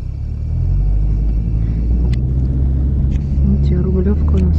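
A car drives along with a steady low engine rumble and road noise from inside the cabin, while people talk over it.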